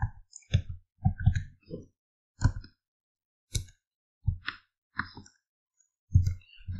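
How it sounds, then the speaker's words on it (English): Computer keyboard being typed on while entering a student name into a WordPress school management system login, with short bursts of clicking keystrokes separated by pauses, close and fairly quiet. "Let me enter one of the student name, Blessing."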